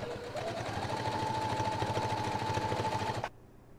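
Sewing machine stitching down a pant hem runs in a fast, even chatter of needle strokes for about three seconds, then stops abruptly.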